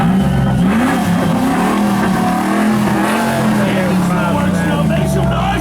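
A Chevrolet Tahoe revs hard during a burnout, its engine roaring steadily with tire noise underneath, loud and close, while a crowd shouts and talks over it.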